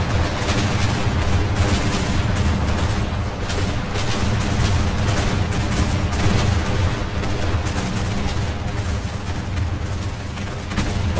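Ship cannons firing in the airship combat game Airships: Conquer the Skies, a constant dense barrage of rapid booms and gunfire crackle, loud and unbroken throughout.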